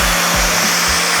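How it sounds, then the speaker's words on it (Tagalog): A Yuli hair dryer blows steadily and loudly at close range, a broad continuous whoosh with a low motor hum and small fluctuations in the airflow. "kailangan natin ng mga blower na kagaya nito. This one is from Yuli, guys."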